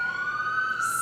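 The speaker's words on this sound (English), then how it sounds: "Sorry, there's sirens in the background." An emergency vehicle siren in Florida drifts in through open windows as a steady, high wailing tone, continuous and moderately distant across the brief moment.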